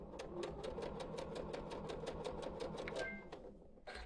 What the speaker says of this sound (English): I'm not the best at sewing with the start stop.